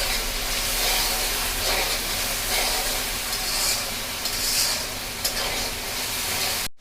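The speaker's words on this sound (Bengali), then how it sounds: "মরিচের গুঁড়া, মশলাটা ভালোভাবে কষাবো।" Spice paste with chili powder frying in a pan for a green-banana surma fish curry sizzles loudly and continuously, with stirring scrapes and swells of hiss, before cutting off abruptly.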